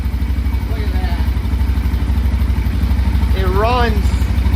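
A big bore quad engine idles close by with a steady, chugging rumble, while voices briefly speak over it.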